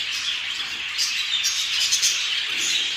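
A budgerigar chick chirps and squeaks continuously while being hand-fed a warm-water formula, a close, busy stream of high begging calls with no speech.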